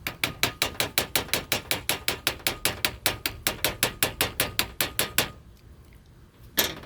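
Metal hammer rapidly striking an air manifold, about thirty sharp, even, evenly spaced taps close by, then a short pause and one final louder hit.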